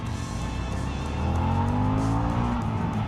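2022 Harley-Davidson Pan America motorcycle accelerating hard through traffic, engine rising steadily in pitch through the gears, loud and close with wind rush.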